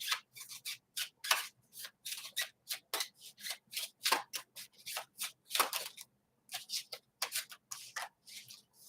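Zodiac fortune telling cards being shuffled by hand, a rapid run of crisp papery riffles and rubs in quick bursts with brief pauses, close up and clear with no talking.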